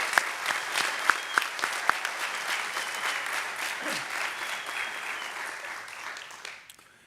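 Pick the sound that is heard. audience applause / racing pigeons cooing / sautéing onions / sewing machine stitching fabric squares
audience applause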